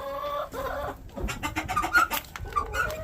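Chickens in a backyard coop cluck steadily nearby, a busy run of short calls and squawks with no voices.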